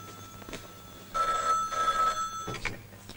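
A telephone rings in a home with a warbling electronic bell, two close bursts of ringing set against quiet room sound.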